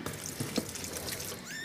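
Water runs from a tap into a small container of powdered kitten formula, a steady splashing trickle with a faint squeak, heard up close and alone.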